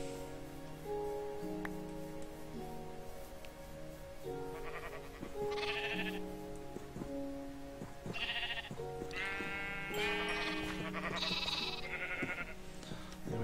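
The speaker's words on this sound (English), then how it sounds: "let's feed these sheep as well" Sheep in the Minecraft video game bleat several times over a backdrop of gentle melodic game music, the short wavering calls arriving irregularly and overlapping toward the end.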